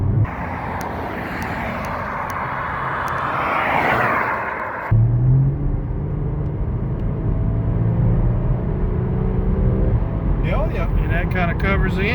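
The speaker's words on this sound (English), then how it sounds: "Yep, I hear the engine" A Porsche engine runs during a DIY service with a steady, loud mechanical drone whose tone changes partway through, while a person talks nearby.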